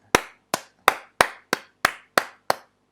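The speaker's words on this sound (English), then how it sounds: "Give yourself a clap." Eight sharp, evenly spaced hand claps ring out close and alone, each a crisp isolated slap with a brief decay, in a classroom setting after an Arduino assessment.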